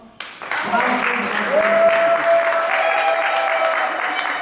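An audience at a charity concert applauds Maman Lily, a sustained burst of crowd clapping that starts abruptly, with a voice over it.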